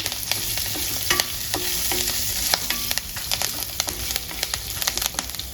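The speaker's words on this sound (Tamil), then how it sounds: "கருவேப்பிலையை அதில் போடுறேன்" Curry leaves frying in a pan for kandathippili rasam, a bright continuous sizzle with crackling pops and occasional scraping stirs, close up and alone.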